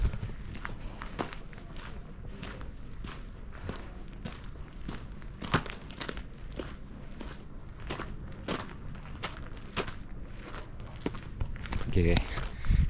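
Footsteps on a mountain trail near Lake Garda crunch in a steady walking rhythm, close and moderately quiet, as a hiker walks carrying a load, with talk heard over them.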